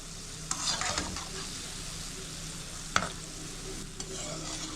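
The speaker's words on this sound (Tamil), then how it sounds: "இப்போ நல்லா கிளறி விடலாம்." Gulab jamun balls being stirred in hot frying oil, with a steady close sizzle and a few sharp scrapes of a ladle against the pan.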